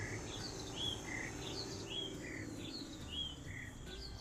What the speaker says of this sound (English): Lots of Tweety birds in the village this morning.